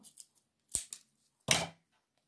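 Scissors snipping through paper while cutting out shapes, a few short crisp cuts close by, ending in one longer louder snip, with quiet pauses between.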